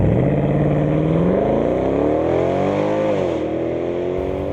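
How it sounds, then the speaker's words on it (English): A 2010 Ford Mustang's engine revs up loudly, its deep, very loud stock exhaust note rising in pitch, dipping briefly, then climbing again close by. "The exhaust note is obscenely loud in this car"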